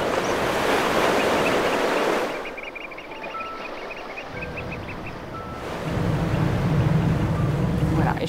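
Wind and surf wash over the open deck of a boat crossing the sea to the island of Ouessant, its engine droning low; the roar briefly drops to a quieter stretch before swelling again.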